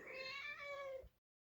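A spoiled house cat gives one long drawn-out meow, close and clear, begging to have the tap turned on so she can drink, then a brief silence and a faint start of another sound.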